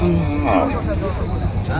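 Bulls lowing amid a busy, noisy crowd at the Punganur cattle market, a deep bellow standing out over steady background hum and chatter.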